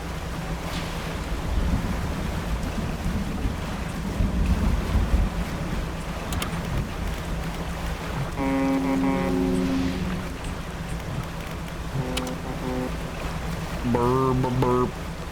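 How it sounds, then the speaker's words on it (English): Wind and waves roll on a dark, stormy night at sea in the video game Dredge, a constant rushing wash with a few short tonal game chimes near the end. "It's a dark and stormy night."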